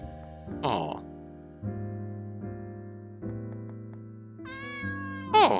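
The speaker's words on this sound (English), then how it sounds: "Oh, it's Cynthia, a little stray cat that you adopted." A stray cat named Cynthia meows in the video game Midnight Train, a short high mew near the start and another near the end, over a steady musical background.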